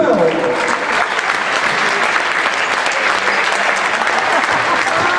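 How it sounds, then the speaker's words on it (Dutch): An audience at a Final Four finale event gives sustained applause for the 2015 runner-up, a thick, continuous wash of clapping at close, loud level with faint crowd murmur mixed in. "mag ik nogmaals een applaus voor de Runner-up 2015"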